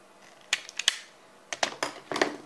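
Sharp snips and clicks of a cutter and stripper working on electrical wire, two clusters of crisp close cuts separated by a brief pause.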